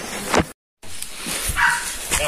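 Dog barking in woodland during a bee-hunting outing, a few sharp barks and yips spread across the clip with people talking around them and a brief dropout partway through.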